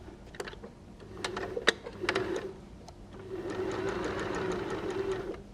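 A sewing machine runs a short seam on scrunchie fabric, a steady close mechanical whir with brief starts and clicks before settling into continuous stitching.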